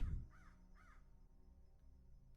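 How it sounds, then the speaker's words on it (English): Crows caw twice in quick succession, hoarse and moderately distant, after a brief low thump, over a faint low background hum with no talk. "You hear the birds around you"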